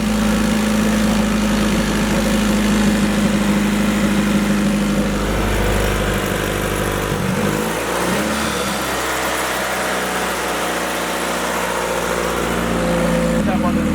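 Idling engine on the Pink Widow car during an ignition timing check on a new setup, a steady low rumble with a strong hum that shifts pitch midway, voices faintly talking over it.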